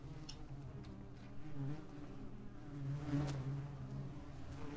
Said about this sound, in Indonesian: Kok ada lalat tiba-tiba?